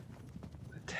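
Cavalry horses' hooves clopping in the strategy game Pike and Shot, a muffled rhythmic patter under low battle din, with a brighter burst of noise at the end.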